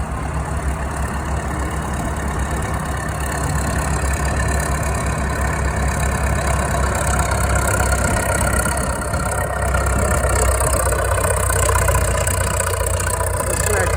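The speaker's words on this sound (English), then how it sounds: "Listen to that diesel growing." The diesel engine of an old Caterpillar machine at work runs loud and close with a constant heavy drone that swells slightly toward the end, with no clear breaks.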